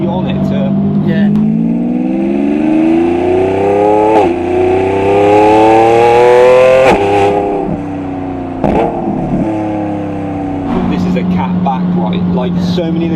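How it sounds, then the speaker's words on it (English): A Lamborghini Revuelto fitted with a QuickSilver cat-back exhaust drives on a road, its engine howling loudly and steadily as it rises and falls through the gears. Brief talk is heard near the end. "It's got that lovely kind of 350 to 500 hertz spike that just gives it that nice kind of howling mid-range to it"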